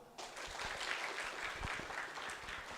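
Audience applause breaks out for a team at a digital health innovation session, starting abruptly and holding as a dense, even wash of clapping for a few seconds.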